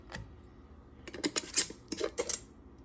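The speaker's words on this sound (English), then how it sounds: "Now I have loaded my canner." Glass canning jars clink against one another and the metal rack as they are loaded into a water bath canner, a scattered series of light, close clinks and knocks.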